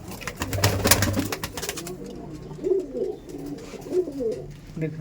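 Soft pigeon coos repeat in short rounded phrases at a pigeon tournament, after a burst of louder mixed noise at the start, fairly close with some background clutter.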